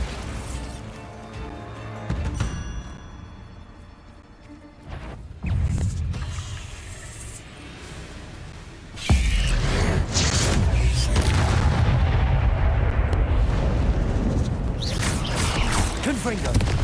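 Heavy booming blasts and crashing debris from the Bombarda spell in Hogwarts Legacy erupt amid spellcasting, growing into a sustained loud rumble, with a voice speaking over parts.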